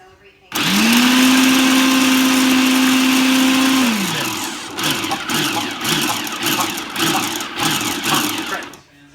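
A blender whirs loudly as it minces ingredients for a pescatarian cornbread stuffing, running steady for a few seconds, then winding down and giving way to choppier pulsing bursts.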